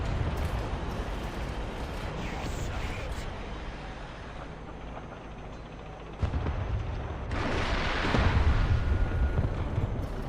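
Tank shell hit and explosion in the War Thunder video game, a T-80BVM main battle tank battle: a broad rumbling boom around the midpoint that swells into a louder roar, under steady game noise with a voice talking.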